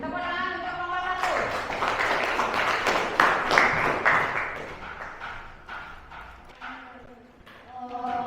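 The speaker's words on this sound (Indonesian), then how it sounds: "Tepuk tangan untuk kelompok 1" Classroom applause for group 1, a short burst of close clapping from students that rises after a voice, peaks, then fades as speech resumes.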